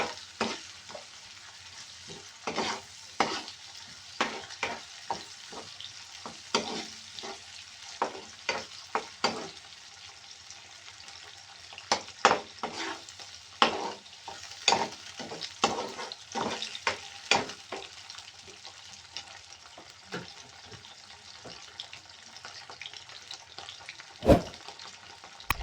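Sweet and sour vegetables with tofu being stirred in a pan, giving a soft frying sizzle broken by frequent sharp clinks and scrapes of the utensil, irregular and close.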